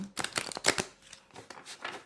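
An oracle card deck being shuffled by hand, with a rapid series of crisp riffling bursts, close and fairly quiet, with no talking.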